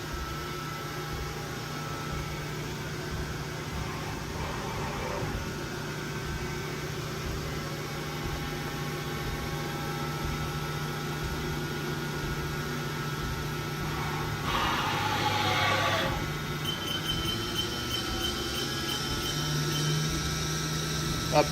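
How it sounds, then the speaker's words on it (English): Haas VF5D/40 vertical machining center spindle turning at 1500 RPM, a quiet, steady mechanical hum with an even whine and a brief brighter rise partway through. "Spindle's nice and quiet."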